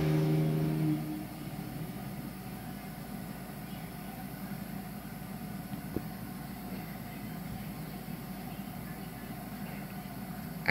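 A loud car with no muffler roars past outdoors, a continuous rough low engine drone that holds steady for about ten seconds.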